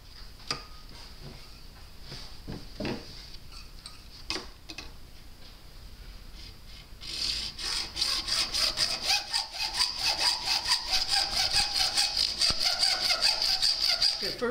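A hand saw cuts through PVC pipe for a homemade F# Native American flute, starting with scattered scrapes and taps, then settling into a steady, fast rhythm of close, loud back-and-forth strokes for the last half.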